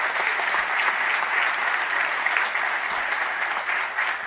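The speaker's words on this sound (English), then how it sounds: "give them another big round of applause." A large crowd at a Clark County, Nevada public event claps steadily and densely, loud and unbroken the whole time.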